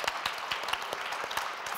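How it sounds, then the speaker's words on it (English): An audience at a European Parliament panel event applauds, soft, distant clapping spread evenly with a few louder individual claps. "Then Bart, first an applause"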